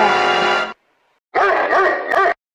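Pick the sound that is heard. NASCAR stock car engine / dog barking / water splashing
dog barking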